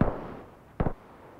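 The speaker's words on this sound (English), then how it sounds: "Was that friendly fire?" Gunshots in PUBG during a western-themed Winchester and pistols-only match, with a sharp crack at the start and then a louder, close burst of two or three quick shots about a second later.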